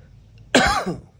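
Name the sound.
cough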